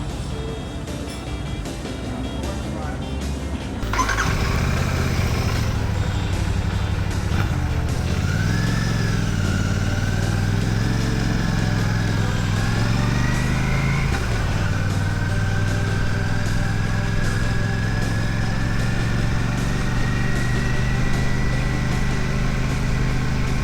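A Royal Enfield Classic 650 parallel-twin engine, roughly 650 cc with a 270-degree crank, fires up after a few seconds of quiet, then runs steadily near the listener with a couple of rising revs before settling into an even idle.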